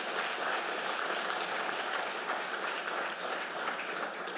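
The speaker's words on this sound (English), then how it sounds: "Let's give them a round of applause, please." Steady, dense applause from a large crowd, loud and continuous throughout with no pauses.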